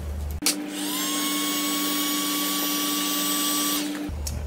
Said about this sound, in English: Grab a heat gun.